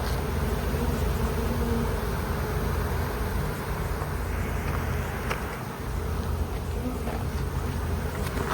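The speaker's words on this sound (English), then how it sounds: "All these bees on top are here trying to call the flying ones down." A honey bee swarm buzzing continuously, a dense steady drone of many wings close by with no pauses, and faint background noise underneath.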